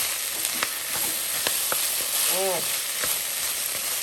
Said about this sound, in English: Mix them all around in the pot here. Let the peppers cook a little bit.